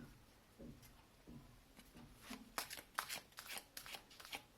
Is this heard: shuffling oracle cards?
yes